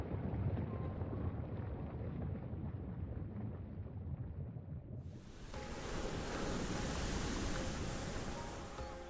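Ocean waves and a sea breeze in the video game Ys X: Nordics, a steady broadband wash of surf and wind that swells brighter and fuller about halfway through, heard alone without any talking.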